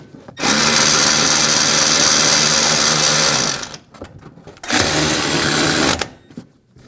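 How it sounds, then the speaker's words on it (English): Power tool with a 15mm socket spinning down the top nuts on a 2011-2018 Ram 1500 front strut assembly, two loud sustained whirring bursts of about three seconds and one and a half seconds, separated by a short pause. "Taking a 15mm socket, we'll tighten the nuts down at the top."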